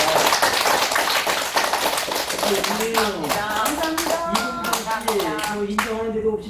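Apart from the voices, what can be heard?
audience clapping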